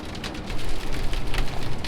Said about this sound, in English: that is a lot of hail on the ground